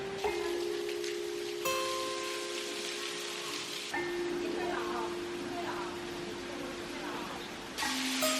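Steady rain falling at a temple in Changsha, an even, close hiss of drops on surfaces that continues throughout, with soft tonal hums and faint voices underneath.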